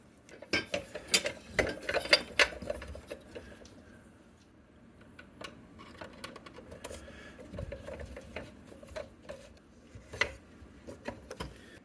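Screw being tightened on a Gecko S-Class hot tub spa pack, heard as faint close ratcheting clicks and scraping taps, busier at first and then scattered.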